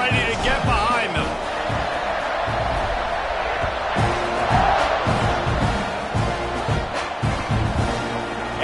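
A college football stadium crowd roars before kickoff at a Texas A&M vs USC game, giving a broad, sustained wash of cheering with swells and a few sharp thuds. A commentator talks over the crowd.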